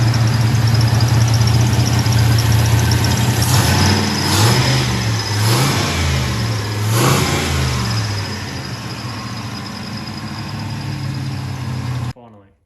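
A turbo LS engine swapped into a Toyota Hilux runs loudly up close, holding a rough idle with a few revs that rise and fall before it shuts off abruptly.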